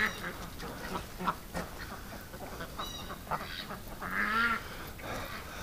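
Ducks at a busy duck rescue quacking in a noisy, crowded flock, with repeated overlapping calls and one louder nasal quack close by near the end.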